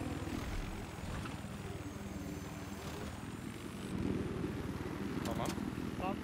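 Helicopter rotor and engine drone in the video game Battlefield 4, a steady continuous whir under voices and game noise, with players talking over it throughout.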